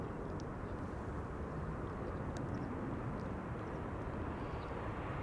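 A KLM Boeing 737 airliner arriving at Amsterdam Schiphol from Geneva produces a steady, distant jet engine roar, a broad continuous rumble that holds even throughout, with no voices.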